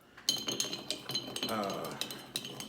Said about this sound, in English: You wanna stir it with the cube in there